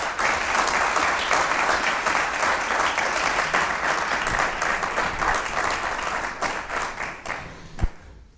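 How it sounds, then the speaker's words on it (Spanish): Sustained, loud applause from a large television studio audience fills the whole stretch, steady clapping that tapers slightly at the end. "Un fuerte aplauso para Sergio Sauca en La Sobremesa."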